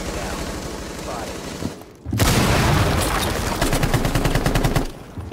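Rapid bursts of gunfire in Rainbow Six Siege, loud and dense, with repeated automatic shots crackling through the middle of the clip after a brief lull, heard alongside game ambience.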